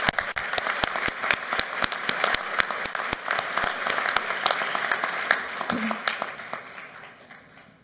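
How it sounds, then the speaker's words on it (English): Audience at a GED graduation ceremony applauds with sharp, distinct claps that build into a full round, then taper off toward the end. "Please join me in giving them a round of applause."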